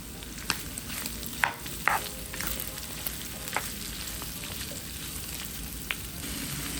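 Beef sizzles in oil with spice powder while a spoon stirs it, giving a constant frying hiss broken by several sharp scrapes and clicks against the pan.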